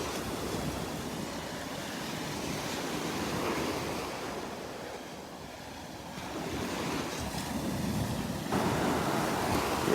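Small ocean waves break and wash onto the beach at Delnor-Wiggins on a morning walk, a soft, continuous surf hiss that swells and eases as the waves roll in, with some wind buffeting the microphone.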